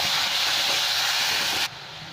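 Onion paste hits hot mustard oil in a pan for a Bengali doi maach curry, loud continuous sizzling hiss that cuts off abruptly, leaving quieter background after.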